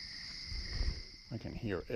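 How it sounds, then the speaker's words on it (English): Crickets chirping at night on a woodland walk in Maine, a steady high-pitched trill running throughout, with a voice speaking over it near the end. "I can hear everything. Water dripping off leaves, crickets, frogs."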